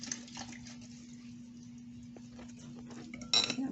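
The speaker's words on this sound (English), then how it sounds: "Then we're going to add in our onion and sliced zucchini skin. And we'll give that a stir." Raw onion and sliced zucchini skin stirred with a utensil in a bowl, giving faint, sparse clinks and light scrapes over a quiet background, with a louder clatter near the end.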